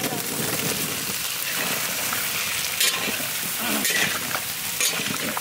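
Potatoes fry in a hot pan with ground ginger and cumin paste for a Bengali fish curry with bottle gourd, giving a steady, close sizzle with occasional stirring scrapes while voices talk nearby.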